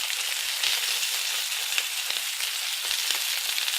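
Steak sears in a hot pan with a steady, close crackling sizzle and small pops throughout, no speech over it.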